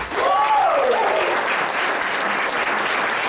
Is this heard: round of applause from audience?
yes